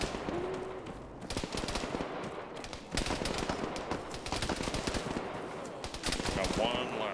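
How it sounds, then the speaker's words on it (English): Sustained automatic gunfire in the video game Arma 3, rapid machine-gun bursts and single shots crackling close by, near-continuous over several seconds with a faint voice beneath. "Those shots right next to us."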